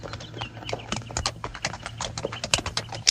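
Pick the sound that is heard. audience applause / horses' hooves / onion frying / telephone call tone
horses' hooves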